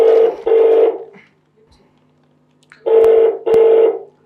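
Telephone dial tones in two pairs of long beeps, close and clear, separated by a quiet gap, as a phone call is redialed with no voices.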